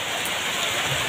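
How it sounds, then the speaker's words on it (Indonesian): Steady rain pours down outdoors at a Sundanese Independence Day (17 August) gathering, a dense, continuous hiss with no breaks, loud and close throughout. "Hujan guys."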